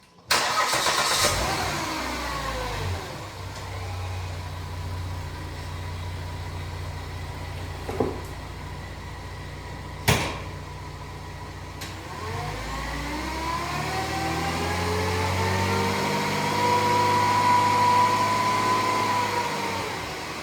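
A 2011 Volvo XC70 with the 3.2-liter inline-six engine cranks and catches, then settles into a steady, close idle with a couple of sharp clicks partway through, and revs gently toward the end.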